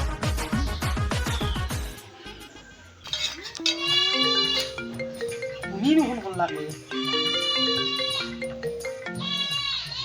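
A melodic phone ringtone plays loudly, a repeating tune of bright synthetic notes with brief pauses between phrases.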